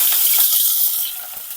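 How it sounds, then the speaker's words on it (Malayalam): Curry leaves drop into hot coconut oil with mustard seeds, giving a loud, steady hiss that fades slightly over about a second and a half. "കറിവേപ്പില,"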